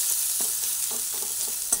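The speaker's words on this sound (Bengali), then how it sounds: "আদাটাও অল্প ভেজে নিচ্ছি।" Ginger frying in a pan for a pointed gourd curry, a steady close sizzle with a few soft scrapes of stirring breaking through at intervals.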